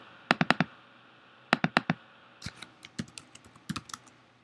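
Keys on a computer keyboard are tapped to type a bookmark title in Apple Pages, in short clusters of crisp, close clicks with brief gaps, quiet and with no voices.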